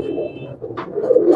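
Pigeon cooing at the Shahdara pigeon market, a short soft coo from a nearby bird over a low murmur of market background noise, no one speaking.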